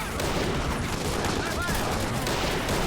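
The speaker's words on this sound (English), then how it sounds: "Exchanging fire." Dense, continuous battlefield gunfire in the Army Men of War Legends game during a plastic-soldier tank ambush, with rapid overlapping shots and bursts filling the whole stretch at steady loudness.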